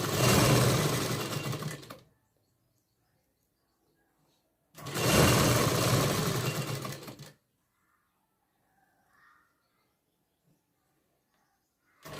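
Sewing machine stitching lace onto a kurti sleeve, running in two loud, steady bursts of about two seconds each, separated by silence, close up and with no voices.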